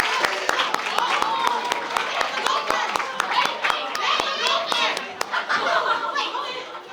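Children and adults at a debate summer camp showcase clap for the staff, a scattered run of crisp claps that fades out toward the end, mixed with chatter, chuckles and kids' voices.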